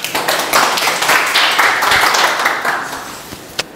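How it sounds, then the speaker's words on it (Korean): Audience applause at a Korean debate forum, a dense, steady burst of clapping from a crowd that swells and then tapers off near the end. "다시 한번 큰 박수 부탁드립니다."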